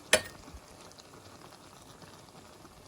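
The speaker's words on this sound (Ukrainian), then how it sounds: "Почала кипіти капуста." A pot of sauerkraut bubbles and simmers gently, soft continuous boiling with faint popping, after a brief sharp clink at the start.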